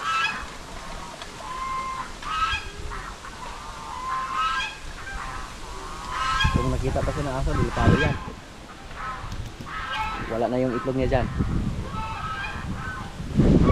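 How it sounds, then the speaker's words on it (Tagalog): Brooding duck nesting beneath bamboo gives repeated nasal honks in short clustered bursts, fairly close, while someone talks over and between the calls. "May pato tayo na naglimlim sa ilalim ng kawayan."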